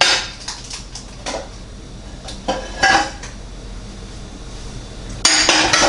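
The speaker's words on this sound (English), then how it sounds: "Now I'm going to mix it all up" Cake batter for a pineapple upside-down cake mixed by hand in a bowl, heard as irregular scraping and clinking utensil strokes, close and fairly loud, with a louder burst of stirring at the end and no talking.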